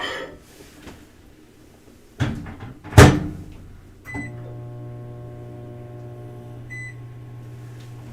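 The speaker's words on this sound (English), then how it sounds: "I have a jar here of water. We're going to throw it into the microwave" Microwave oven heating a jar of water: door clatter and a click as the door shuts, then beeps and a steady, low running hum that continues to the end with a brief beep partway through.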